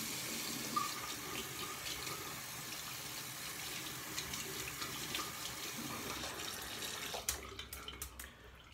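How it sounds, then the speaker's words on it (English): Tap water runs steadily into a sink to wet a Maggard synthetic-knot shaving brush, a soft continuous rushing stream that shifts to splashier spatters near the end as the brush meets the flow. "I'm gonna wet my brush a little bit."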